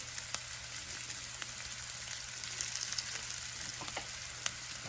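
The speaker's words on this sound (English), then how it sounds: "And more oil to fry it." Onions frying in oil in a pan give a continuous, even sizzle that stays close and steady, broken by a few faint ticks and crackles.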